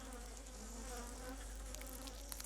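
Dense, steady buzzing of many honeybees packed inside a hive colony where young workers clean brood cells, a continuous close hum with faint wingbeat flutters and no voices.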